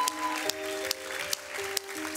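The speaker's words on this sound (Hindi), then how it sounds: "थोड़ा तालियां हो जाए फैंस के लिए" A studio audience at a kids' talent show claps over a sustained musical tone, with sharp, evenly spaced hits at a moderate distance.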